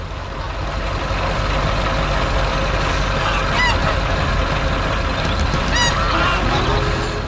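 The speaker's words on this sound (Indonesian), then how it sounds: "Angsa hijau berlarian di sekitar rumah kayu, mencari makanan di bawah pohon." Green geese in an animated farm cartoon give two brief honks, one near the middle and one near the end, faint against a loud, dense rumbling background like an engine or tractor.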